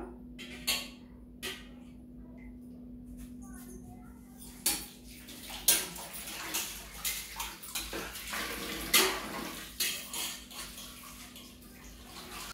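Raw fish are washed by hand in water inside a metal vessel. Close, irregular sloshing and splashing are broken by sharp clinks and knocks against the pot, over a low steady hum, with no clear talking.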